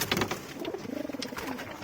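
A giribaz pigeon gives a close, soft run of rolling coos, with a few brief rustles around it.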